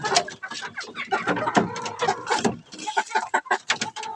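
Chickens kept for laying cluck and squawk busily up close as they are fed, in short overlapping bursts with no speech.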